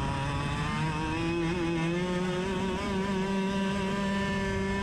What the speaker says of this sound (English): Cart's running and it seems to be running pretty well.